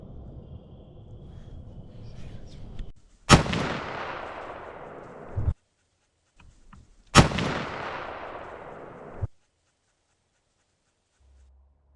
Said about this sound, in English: I make one quick shot on him, as you'll hear and see in the trail cam picture here